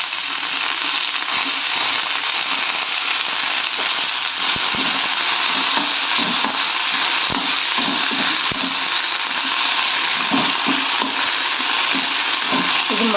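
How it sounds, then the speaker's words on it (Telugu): Cumin seeds and curry leaves frying in oil in a pan, a steady loud broadband crackle and sizzle with scattered pops, continuous throughout with no talking. "ఇప్పుడు దీనికి జీరా వేస్తున్నాను. అది జీరికి కరివేపాకు వేస్తున్నాను."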